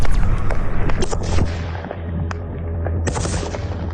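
Gunfire from shotguns aimed at a reconnaissance drone by a Belgorod territorial defence unit, several sharp shots in quick irregular succession over a steady low rumble, moderately loud and mostly without talk.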